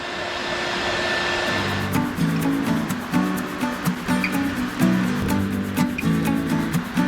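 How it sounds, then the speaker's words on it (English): Heat gun blowing hot air to dry clothes, a steady roaring hiss close by. Partway through, a rough fluttering rumble joins in as the fabric is blasted. "I'm using the heat gun to dry my clothes"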